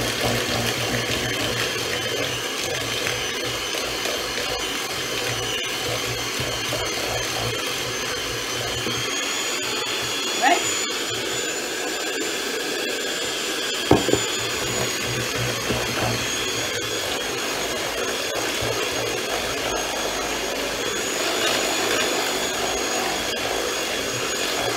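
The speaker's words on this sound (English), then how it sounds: "Mixing in this little mixer." A small electric hand mixer beating cake batter of butter, margarine, sugar and eggs gives a steady, continuous whirring drone for the whole stretch, with a couple of brief knocks partway through and no talk.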